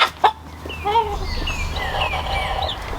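Hens and roosters on a farm cluck and squawk rowdily together, a busy overlapping chorus of close calls with a sharp cry near the start.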